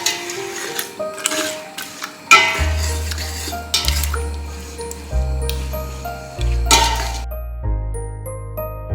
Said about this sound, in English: I'm going to gently stir them.